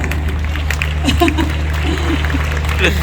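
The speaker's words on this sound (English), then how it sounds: "So please keep clapping if you can clap." Audience applause in a talk hall, steady clapping under a speaking voice and a few chuckles, with a low hum underneath.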